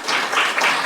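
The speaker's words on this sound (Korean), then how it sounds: "큰 박수 부탁드리겠습니다" An audience at a Korean fashion industry policy forum applauds in a brief, steady burst of dense clapping, close and fairly loud, with no voices over it.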